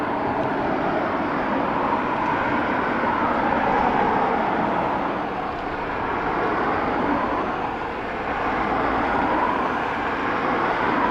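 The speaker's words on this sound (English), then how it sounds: "This is our 757 of Delta heading off to Minneapolis stateside." A Delta Boeing 757 departing Dublin Airport produces a sustained, broad jet roar that swells and dips slightly as it passes, heard from a distance with no speech over it.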